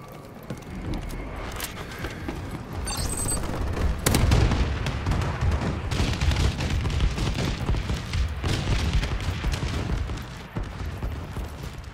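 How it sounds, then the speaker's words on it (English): A friendly bombing run in the Call of Duty Advanced Warfare Camp David mission: steady rumbling explosions and gunfire roll on continuously, with a heavier blast near the middle, dense and loud throughout. "Friendly bombing run clearing the way."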